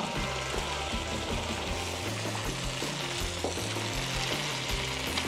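Garlic and onion sizzle steadily and loudly in a hot pan for a Batangas-style beef kaldereta as tomato sauce goes in, the frying hiss continuous and close with rhythmic stirring scrapes underneath.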